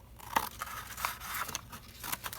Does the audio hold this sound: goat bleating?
no